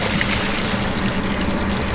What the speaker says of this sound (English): Once your pasta is al dente, you're going to go ahead and drain it.